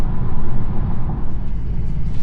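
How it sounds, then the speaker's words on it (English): A 2025 Ford Maverick pickup with the 2.5L hybrid powertrain on the move, giving a steady, loud low rumble of road and engine noise inside the cab with no one talking. "Let's go ahead and drive the hybrid"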